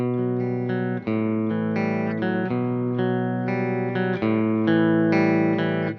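A distorted electric guitar plays a sustained chord riff, loud and buzzing, the chords changing every second or so without a break.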